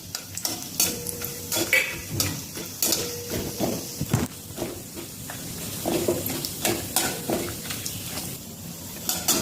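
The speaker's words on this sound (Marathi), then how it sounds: "तूप गरम झालं की सगळ्यात आधी आपण काजू बदामाचे काप केलेले आहेत ते तळून घेऊया" Sliced cashews and almonds fry in hot ghee, giving a soft crackling sizzle with irregular scrapes and clinks of a spoon against the pan, moderately quiet with no talk.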